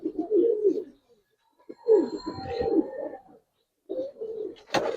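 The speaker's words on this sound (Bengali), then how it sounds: "অনেক সুন্দর কবুতর ভাই ওরগুলো দেখে ভাই" Pigeons coo in low, throaty bursts separated by short pauses, close by, with a sharp flutter or rustle near the end.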